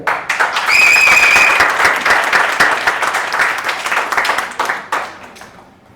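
An audience at a Tamil debate forum bursts into loud, steady applause, many hands clapping close by before it fades out toward the end.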